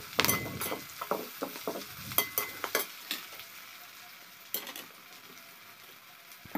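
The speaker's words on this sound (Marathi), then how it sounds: "आता आपण कांदे टाकून व्यवस्थित त्यांना फ्राय करून घेऊया।" Onions fry in plenty of hot oil in a pan, with a steady sizzle beneath repeated clinks and scrapes of a stirring spoon, close and fairly loud.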